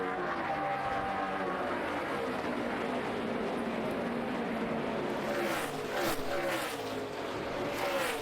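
NASCAR stock cars race three and nearly four wide at Homestead-Miami Speedway during the 2009 Ford 400, a steady, continuous engine roar with slowly shifting pitch that stays loud and unbroken throughout.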